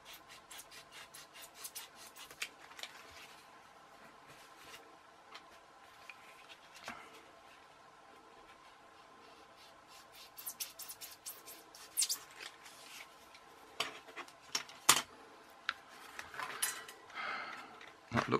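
A LIDL foam glider being cut, heard as close, quiet scratchy rubbing and rasping strokes, sparse at first and then busier with sharper snips and scrapes toward the end, and no talking.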